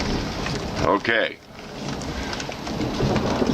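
A small hail and thunderstorm rages outside a workshop, with steady rain hissing throughout and a low rumble of thunder beneath it; a voice speaks briefly near the start.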